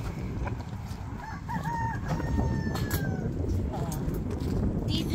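Chickens and roosters on a farm, with several crowing and clucking calls rising over a steady outdoor background noise and nearby voices.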